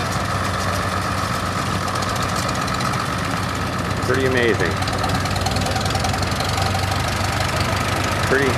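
An old M engine runs quietly at a steady idle with a soft, even knocking beat, while people talk nearby over the continuous hum.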